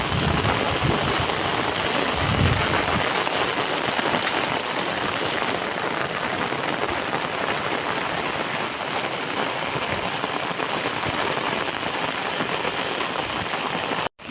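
Torrential monsoon rain lashes a Konkan village in strong wind, a loud, unbroken roar of falling water with runoff, close and continuous, no voices.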